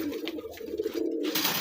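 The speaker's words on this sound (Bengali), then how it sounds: "আর আছে আপনার মায়াটা আছে টেডি কবুতর" Teddy pigeons cooing close by, a low throaty warbling coo repeating in soft pulses over a quiet rustle, without any voices.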